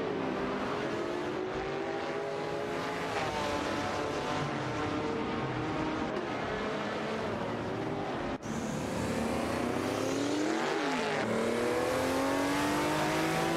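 Race cars in an AI racing video game roar past one another, engines revving and shifting pitch as they overtake, a dense continuous drone of several cars close together with no talk.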